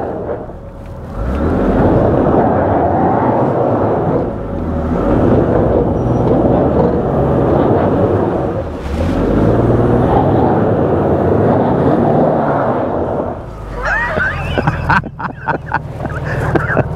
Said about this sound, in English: that front wheel's still slipping